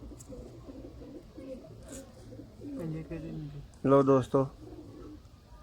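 Sialkoti pigeons cooing close by, soft repeated throaty coos with a louder burst of calls near the end, while someone talks over them.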